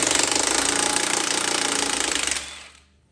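An impact wrench rattles loudly and close for about two and a half seconds, loosening the lower ball joint nut on a 2014–2018 Jeep Cherokee with an 18 mm socket, then cuts off and fades.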